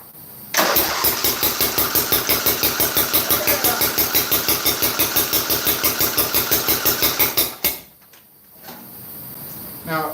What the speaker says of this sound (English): Now, this is the cylinder it's backfiring through.